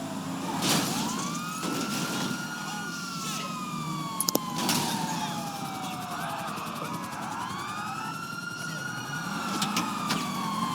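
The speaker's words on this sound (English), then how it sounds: "Still don't know how to turn the siren off." A police car siren in the video game GTA V wails continuously with rising and falling sweeps, loud and close, over steady engine and traffic noise.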